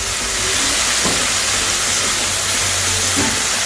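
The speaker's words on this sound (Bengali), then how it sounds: "এবার আমি এতে খুব সামান্য একটুখানি জল অ্যাড করব।" Water splashed into a pan of frying chicken masala on a gas stove sets off a loud, steady hissing sizzle that runs continuously with no talk.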